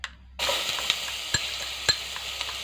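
Minced dried shallots and garlic sizzle steadily in hot cooking oil in a pan, starting abruptly and continuing with a few sharp clicks and pops, with no talking.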